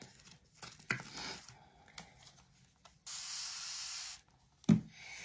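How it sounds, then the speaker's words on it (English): A steady hiss of a spray bottle misting for about a second, close by, with scattered soft taps and rustles before and a thump after. "And only spray water in it if it needs it."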